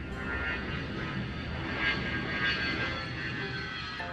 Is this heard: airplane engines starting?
yes